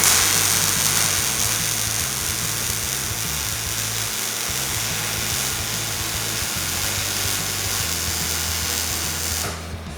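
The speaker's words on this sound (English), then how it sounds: "Go ahead and weld this in" Steady, continuous welding crackle and buzz on a 1971 Camaro torque box repair, droning evenly at moderate volume for about ten seconds with no talking before it cuts off near the end.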